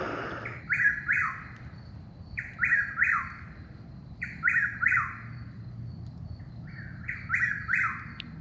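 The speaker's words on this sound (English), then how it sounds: "That's what's making that noise." A Chuck-will's-widow, a large nocturnal bird, calls repeatedly at night near a campground, giving four evenly spaced rhythmic phrases, each a quick run of whistled notes; clear and moderately distant over faint background hum.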